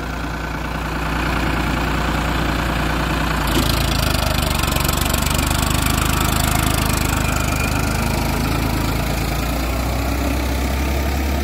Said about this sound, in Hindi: बहुत ही शानदार और जानदार आवाज़ है ट्रैक्टर की